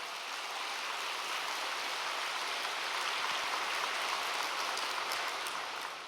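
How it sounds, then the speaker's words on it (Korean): A large congregation at a religious training gathering applauds in a dense, steady wash of clapping that sustains evenly for several seconds without voices. "동행하신다면 큰 박수 부탁드리겠습니다"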